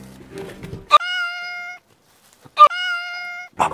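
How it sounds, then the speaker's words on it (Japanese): Cat meow sound effects are dubbed over retching while a large silver carp is cleaned: two clear, drawn-out meows separated by a short silence, each with a brief noise before it. "えずいたら猫ちゃんの声をかぶせときます"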